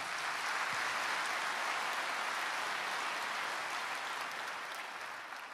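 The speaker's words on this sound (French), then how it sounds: "ce sont des applaudissements qui font plaisir" A crowd gives sustained applause: a broad, even roar of many hands clapping that holds steady for several seconds and then tapers off slightly at the end, with no speech.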